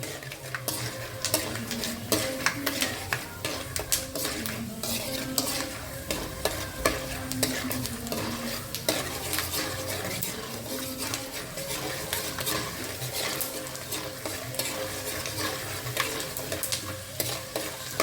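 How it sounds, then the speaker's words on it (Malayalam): Raw peanuts sizzle and crackle in hot oil while a utensil stirs and scrapes the pan in a steady, busy rhythm. "അതുകൊണ്ട് നമുക്കിതൊന്ന് എണ്ണയ്ക്കകത്തൊന്ന് വറുത്തെടുക്കാം"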